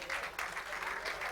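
Steady audience applause fills a volleyball gala hall, a dense sustained patter of many hands clapping at moderate volume.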